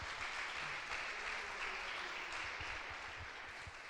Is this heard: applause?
yes